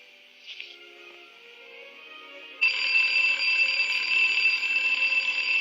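An alarm clock in a 1950s educational film about changing habits rings loudly and continuously, a steady shrill bell that starts abruptly partway through after a quieter stretch and keeps going to the end.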